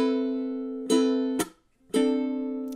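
A ukulele strums one measure of a dynamics etude, a few sustained chords in time with a sliding chord shape and a short gap before the final strum. It is close and clear, with no one talking.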